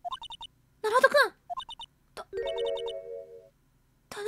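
Electronic ringtone from a flip-style phone in the game Ace Attorney, a short repeating melodic chirp that plays in brief bursts, with a character voice and game tones between them.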